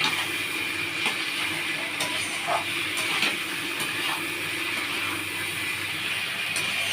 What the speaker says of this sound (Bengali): দিয়ে এইবারে আমি মশলাটাকে কষতে থাকবো।